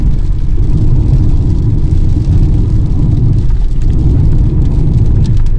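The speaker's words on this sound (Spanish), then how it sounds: "allá viene otra vez. La lluvia en América." Steady rain pours during a ride through traffic on a courier's motorcycle in San Rafael Cedros, El Salvador, a loud, continuous wash of rainfall mixed with rumbling engine and road noise, with no talking.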